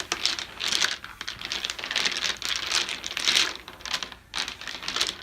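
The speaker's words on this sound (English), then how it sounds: "we're going to shuffle up all of these blocks" Small game blocks from a pyramid poker tabletop game being shuffled by hand, a continuous clattering and rustling of many pieces knocking together at close range, with brief pauses, no talking.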